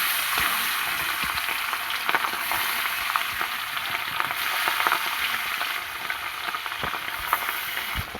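Small tengra fish fry in hot oil in a kadai, giving off a continuous, even sizzle with faint crackles and occasional stirring clinks, close and steady, with no voices.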